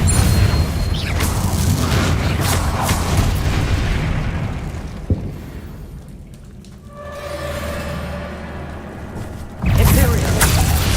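Confringo explosive spell cast in Hogwarts Legacy, loud booming blasts with crackling bursts and a sharp impact partway through, amid busy combat noise and speech.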